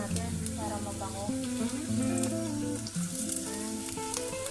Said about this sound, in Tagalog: So hot oil na tayo. Try lang natin yung mga ingredients natin para mabango.